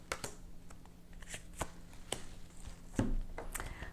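Tarot cards being shuffled and laid down in soft, irregular taps and slides, quiet and close, with one slightly heavier snap near the end.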